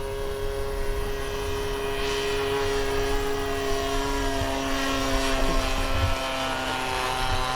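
A Phoenix 1:6.5 scale Cessna Skylane 182 RC plane flies over a grass field, its propeller engine droning steadily and continuously at moderate distance, with no talk.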